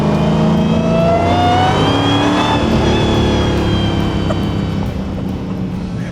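A 717-horsepower American car accelerates hard, its engine roaring loud and continuous with the pitch climbing through the gears.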